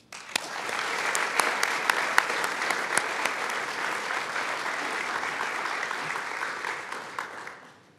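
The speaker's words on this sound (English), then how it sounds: "let's have one round of applause for this year's Impact Award winners." A nonprofit annual meeting audience gives a steady round of applause for award winners. Many hands clap densely and evenly with a few sharp nearby claps, sustained for about seven seconds before tapering off.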